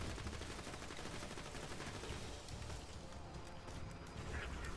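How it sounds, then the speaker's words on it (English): Rapid autocannon fire in the video game Borderlands 2 rattles on as dense, continuous bursts of shots, faint in the mix throughout. "Hey, autocannon."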